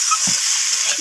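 Green tomatoes, already fried, sizzle in a pan while being stirred, a short burst of close frying hiss with a soft scrape of stirring partway through.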